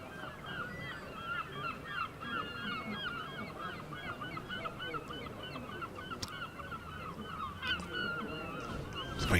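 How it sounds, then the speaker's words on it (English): A flock of geese honks continuously at a cricket ground, many overlapping nasal calls ringing out at moderate distance, loud and busy throughout, with no talking. "It's very noisy that far into the ground with the old birds."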